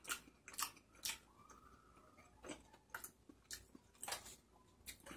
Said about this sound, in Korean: 지금 떡볶이 먹으니까